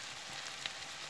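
Corn, kidney beans and paprika simmer gently in a pan over low heat for a meatless chili, giving a faint, soft, continuous sizzle and bubbling hiss with no voices.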